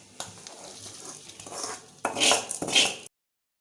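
Tempering gets scraped from a pan and worked into salted kneaded rice dough for kara kozhukattai, clattering utensil knocks and scrapes building to louder bursts of clinking near the end before cutting off.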